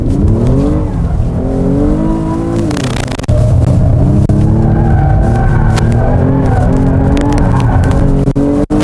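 A Kia Stinger GTS engine roars loudly, rising and falling in pitch as the car slides sideways, with a brief burst of tire noise partway through.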